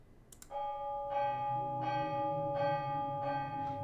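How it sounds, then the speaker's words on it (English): A bell rung by a rope in the video game Ben Jordan Paranormal Investigator clangs loudly, striking about five times in a steady rhythm, each ringing tone hanging over into the next. "Oh, that's a louder bell than I anticipated."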